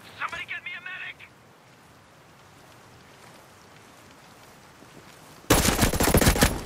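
Gunfire in the Ghost Recon Breakpoint video game during a PS5 PvP match: a short rattling burst opens, then quiet ambience, before a loud, dense sustained volley bursts in near the end.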